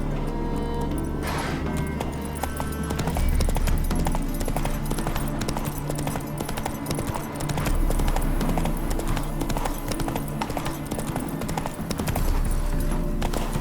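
Horse hooves gallop in a steady clip-clop rhythm in The Witcher 3 on PS5, loud and continuous over a game soundtrack, with a brief whinny near the start.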